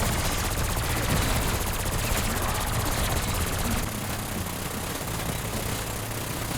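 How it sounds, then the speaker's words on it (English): Sustained light-machine-gun fire unloaded into zombies in Black Ops 6 Zombies, a dense continuous rattle of rapid shots that stays loud throughout and eases slightly in level partway through, with no talking. "Let me go ahead and just unload into these zombies here"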